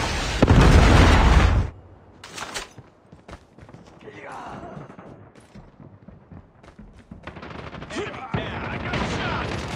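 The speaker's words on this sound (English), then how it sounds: "Friendly predator missile inbound." Call of Duty game battle sounds: a heavy, loud predator missile explosion hits first, then scattered gunfire pops and rattles trail off beneath game voices.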